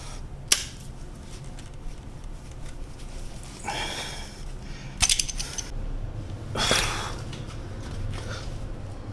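A ratchet working on a seized, stripped bolt of an R53 Mini Cooper S, heard as a few short metallic clicks and scraping bursts spread out over quiet garage background, close but fairly soft.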